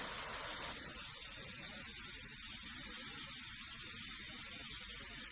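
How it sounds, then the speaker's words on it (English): An airbrush dusts a fine mist of paint for a monotone portrait, a soft, steady hiss that starts just under a second in and continues unbroken, close and fairly quiet with no talking. "So I'm just dusting that in because I need the paint there"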